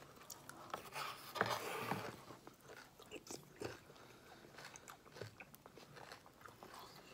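Crunchy cereal being chewed close to the mouth, soft irregular crunches and bites with a faint wet texture, quiet and intimate with no talk.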